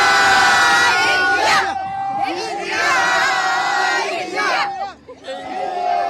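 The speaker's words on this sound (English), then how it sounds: "Cheer for Team India." A crowd cheers and shouts loudly for Team India as world champions in Barbados, with rising waves of roaring voices and excited calls that dip briefly near the end before swelling again.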